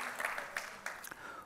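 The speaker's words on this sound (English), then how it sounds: "let's clap them out" Church congregation clapping at a service, a moderate, steady patter of many hands with a few sharper individual claps standing out, brief and fairly distant.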